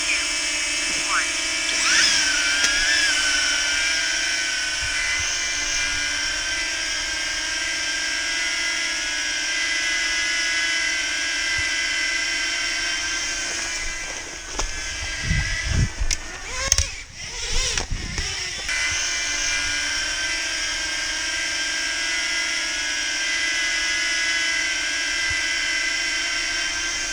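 DJI Neo and DJI Flip drones fly in follow mode, giving a steady high-pitched propeller whine with a few wind buffets and bumps in the middle. A person talks over the buzzing.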